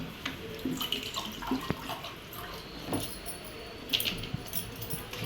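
Water runs from a tap into a vessel in a home kitchen, a soft, fairly quiet trickle with a few small clinks and knocks scattered through it.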